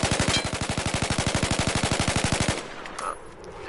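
A carbine rifle fires on full auto at a Battlefield 4 shooting range: one steady, rapid burst of evenly spaced loud shots for about two and a half seconds, then it stops and quieter range ambience remains.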